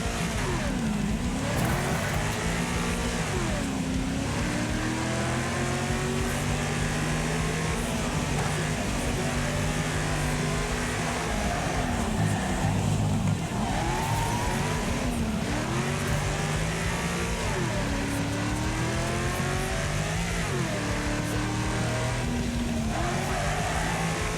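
A car engine in the Wreckfest racing game revving up and dropping as gears shift, with rising and falling pitch sweeps that repeat steadily over a loud, continuous roar.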